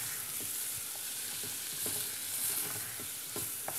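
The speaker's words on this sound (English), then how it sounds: "we want to cook these onions" Chopped onions fry and sizzle in a pan while a utensil scrapes and stirs them, giving soft irregular knocks over a constant crackling hiss, close and fairly quiet.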